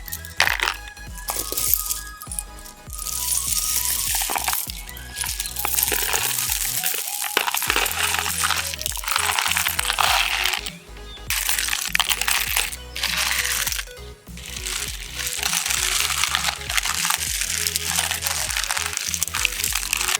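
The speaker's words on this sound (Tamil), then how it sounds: "அந்த மாதிரி கல்லெலாம் எடுத்து வச்சு போட்டுக்குவாங்க." Colored aquarium stones are poured into a fish tank in repeated bursts, a loud close clattering and crunching rattle of small pebbles with brief pauses between pours.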